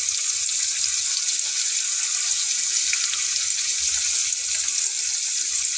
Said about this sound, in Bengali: মশলাটাকে খুব ভালো করে কষে নেব